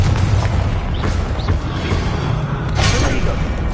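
Explosive Confringo spell blasts in Hogwarts Legacy, several booming impacts and crackling bursts one after another over a continuous rumbling background, loud and close.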